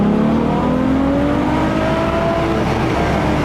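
A Ferrari F12 accelerates on a freeway, its engine note rising steadily and loud from the cabin over constant road and wind roar.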